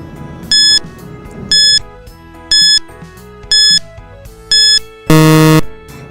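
A countdown timer in an educational quiz beeps five times at a steady one-second pace, then a longer, louder buzzer sounds at the end, all over soft background music.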